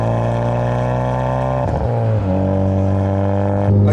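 A 2017 Honda Civic Type R FK8 with a turbocharged engine accelerates from inside the cabin, a loud steady engine drone that dips briefly at a gear change, then resumes pulling strongly.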